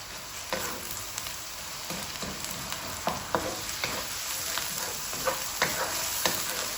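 Ginger garlic paste fries with onion in hot oil for a turnip curry, giving a steady close sizzle. Occasional sharp clicks of a spoon stirring the pan punctuate it.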